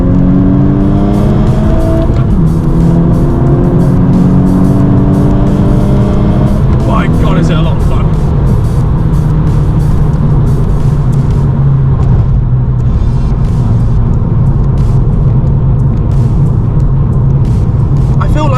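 A 350 bhp Volkswagen Scirocco R with a turbo build accelerates hard through the gears at night, its loud engine rising in pitch through repeated climbs and shifts, heard close from inside the car with someone talking over it.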